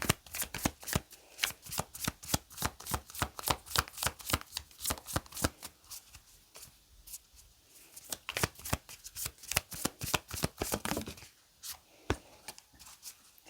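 Paper flower-meaning and message cards shuffled in a steady, rapid riffle of crisp slaps, close and alone, with a short pause near the end before the shuffling resumes.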